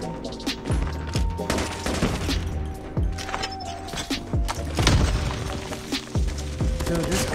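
Gunfire from a weapon in a video game firefight, with repeated loud bursts and booms over dense game effects and ambient noise, and a voice talking at times.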